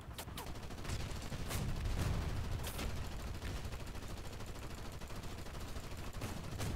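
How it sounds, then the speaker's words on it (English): A War Thunder tank firing all its guns at once, heard as a dense, steady volley of rapid gunfire with heavier thuds mixed in, continuous and fairly distant. "That time I did a much better job firing all guns."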